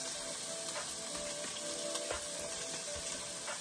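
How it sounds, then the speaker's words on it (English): Ribeye steak searing in a hot pan, a steady close sizzle and crackle with small pops throughout, no talking. "Going for that sear."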